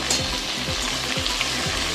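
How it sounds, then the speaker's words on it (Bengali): Pointed gourd and okra sizzle and crackle steadily in a hot pan with green chili and panch phoron, with a few soft scraping stirs repeating at regular intervals. "এবার পটলের সঙ্গে ভেন্ডিটা ভালোভাবে ভাজা হোক"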